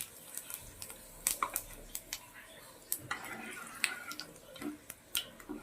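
Nigella and whole cumin seeds fry in hot oil left over from frying fish and potatoes, giving faint, scattered crackling pops and small ticks at close range.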